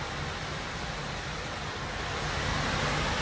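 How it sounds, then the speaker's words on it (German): A waterfall at an outdoor mini golf course in Palmanova, Mallorca gives off a steady, broadband rushing roar. It stays loud and constant throughout, with no speech. "Hier im Hintergrund ist ein Wasserfall."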